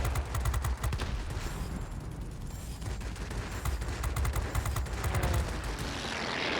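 A 37mm cannon fires in a war video game, rapid repeated bursts of booming shots over a constant loud battle din.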